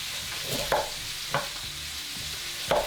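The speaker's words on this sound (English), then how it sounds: "Try to sear all sides" Beef short ribs sear in a hot pan alongside onions, a constant hissing sizzle punctuated by three or four clear scrapes or turns of a utensil, close up and without any voices.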